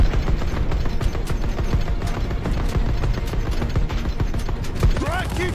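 Dense, sustained gunfire from the Call of Duty: Vanguard campaign fills the clip as a busy rattle of rapid shots throughout, with game effects and a brief whooshing sweep near the end.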